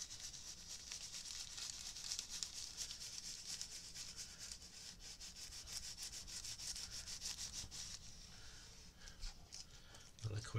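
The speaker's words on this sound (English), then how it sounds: "Just gentle circular movements there, just to get the ink off the greaseproof paper." Soft, continuous rubbing of greaseproof paper in gentle circular movements to lift off printing ink, a steady scratchy swish with no breaks that eases off near the end.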